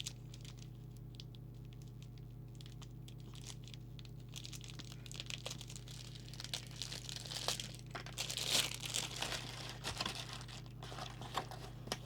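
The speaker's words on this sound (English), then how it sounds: "Oh, it's that rattly plastic again." Rattly plastic packaging around a CB radio microphone being handled and crinkled, soft and close, with faint continuous crackling over a steady low hum and a brief brighter rustle near the end.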